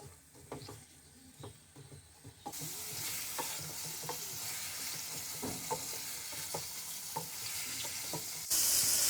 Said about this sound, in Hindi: घी के अंदर हम इसको 5 मिनट फ्राई कर लेंगे।